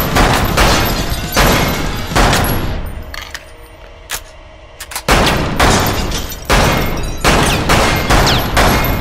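Repeated loud gunfire from the VR shooting game Lethal VR, bursts of rapid close shots with a brief lull of sparse single shots in the middle before heavy firing resumes.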